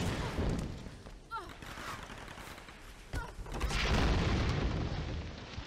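Bursts of Tomb Raider gunfire crackle and boom in a busy, dense mix, with a heavier volley swelling near the end.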